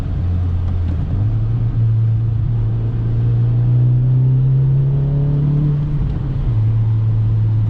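A modified turbocharged car accelerates under boost, its engine drone holding steady and rising gradually in pitch as it pulls, loud and close from inside the cabin.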